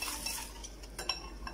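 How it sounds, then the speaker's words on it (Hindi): A spoon or whisk stirs milk into chocolate cake batter in a bowl, giving faint, close scraping with a few light clinks against the bowl over a short stretch, with no voices. "इस तरह करके हम बाकी दूध भी शामिल कर देंगे और अच्छी तरह से इसको हम मिक्स कर लेंगे।"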